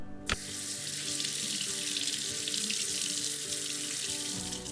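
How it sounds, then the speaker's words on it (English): Lemon being washed and rubbed with salt under a running kitchen tap, a steady close hiss of flowing water with faint rubbing and clatter beneath it, opening with one brief knock. "you can just manually unwax it with some salt"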